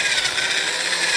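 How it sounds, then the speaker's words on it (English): A steady, harsh whirring grind of a spinning wire wheel on a power drill cleaning aluminum parts of a squarebody K5, continuous and close, with no breaks. "I do plan on using a variety of these wire wheel attachments on my drill"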